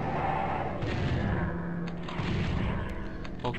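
Enemy gunfire in the Nintendo 64 game Doom 64, a few dull blasts and booms over a low rumbling game soundtrack, fairly quiet with no talking.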